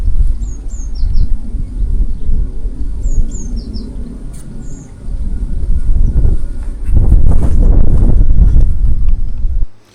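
Wind buffeting an action camera microphone outdoors in cold weather, a loud low rumbling roar that swells stronger near the end, with faint bird chirps in the background.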